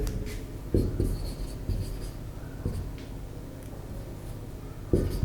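Pen writing notes during a chemistry lecture on the solid state, a string of soft scratchy strokes with a few sharper taps, close over a low room hum and without speech.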